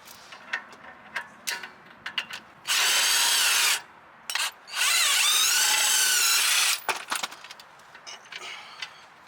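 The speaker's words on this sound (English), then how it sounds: "Remove the lower hub assembly bolt and nut." A power tool spins off the lower hub assembly bolt and nut on a Jaguar XJ6 rear wheel bearing job: two loud sustained whirring bursts, framed by scattered close clicks and metallic handling noises.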